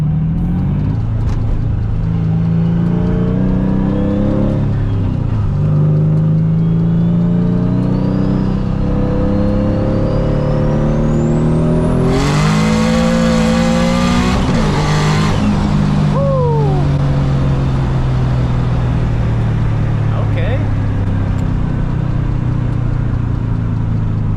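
Engine-swapped Nissan S15 pulling hard, heard from inside: a loud engine climbs through the revs, then a sharp shift and renewed acceleration, steady and close throughout.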